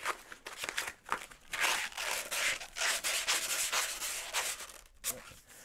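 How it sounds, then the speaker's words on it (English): Hand sanding of model rocket parts, including fins, for a LOC Graduator rocket: steady, close scratchy rubbing strokes in quick repeated passes with brief pauses, no voices. "So let me get started with the sanding."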